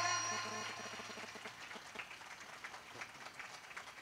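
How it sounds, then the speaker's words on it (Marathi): Audience applause at a comic kirtan, with dense clapping that starts loud and thins into a scattered rattle, under a steady musical drone and voices. "टाळी टाळी जोरात जोरात टाळी."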